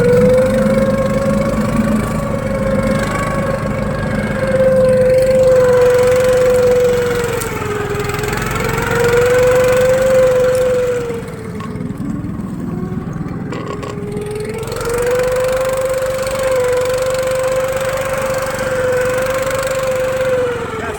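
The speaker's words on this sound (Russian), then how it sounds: "Буксировщик идет спокойно." A motorized snow tow churns through deep snow in the taiga, its engine droning steadily and close. The pitch rises and falls as it labours, with a brief easing of the motor partway through before it picks back up.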